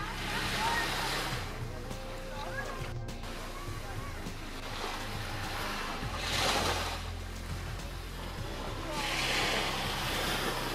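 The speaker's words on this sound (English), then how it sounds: "beautiful sound of these little waves" Small, gentle waves wash onto the shore at Cayo Coco, Cuba, in slow swells, rising and falling every few seconds over a steady low rumble of water.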